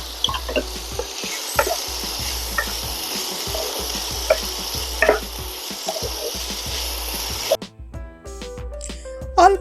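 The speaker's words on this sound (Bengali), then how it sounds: "অল্প একটু ঘুরিয়ে নিচ্ছি যাতে সমস্ত কিছু একসাথে মিশে যায়।" Chicken mince stirred in a pan for chicken pitha, steady sizzling with repeated scraping strokes of a spatula, ending in a few clinks of utensils.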